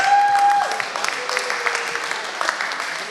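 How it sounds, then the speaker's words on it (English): A crowd at a media gathering claps steadily after a brief tone fades out at the start, a dense patter of applause that stays even throughout. "Let's give these guys one more round of applause."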